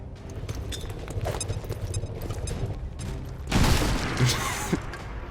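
Grenade explosion in the turn-based tactics game XCOM 2, a burst of crackling blast noise that erupts suddenly after quieter rattling game sounds and then fades with scattered debris.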